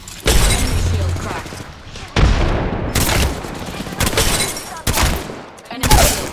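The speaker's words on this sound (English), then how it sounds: "I'm under fire." Gunfire in the shooter Apex Legends: repeated loud automatic bursts come in short volleys, separated by brief pauses, with a voice speaking between and over the shots.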